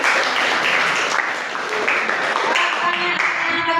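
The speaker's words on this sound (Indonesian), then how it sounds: "Tepuk tangan dong buat orang tua" A classroom crowd gives the parents a dense burst of clapping that stays loud and steady throughout, with voices mixed in among the applause.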